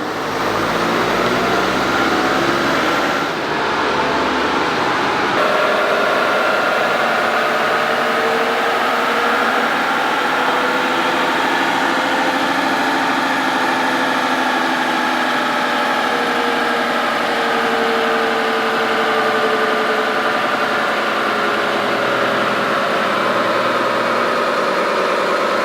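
A Volkswagen Jetta TDI diesel engine runs steadily under load while the car picks up speed toward highway pace, with a continuous loud drone and a slowly rising, shifting tone and no talking.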